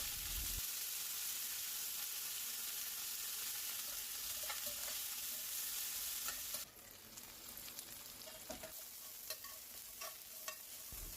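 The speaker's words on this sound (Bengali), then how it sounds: "ডাঁটাগুলো দিয়ে লবণ হলুদ দিয়ে 1-2 মিনিট ঢাকা দিয়ে কষে নেব।" Drumstick stalks sizzle steadily in hot oil with salt and turmeric, stirred with repeated scraping; the frying grows quieter partway through, as if the heat dropped or a lid went on, then continues with light clinks and crackles.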